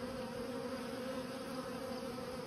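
Robber bees swarm around freshly cracked-open beehive boards, making a dense, continuous buzzing drone that stays steady and fairly close throughout, with no voices.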